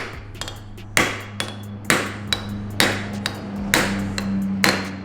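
Hammer blows crushing a blow-off valve on a tuned 340 WHP Mitsubishi Evo X: about nine sharp, loud metallic strikes at an uneven pace, over a low steady hum.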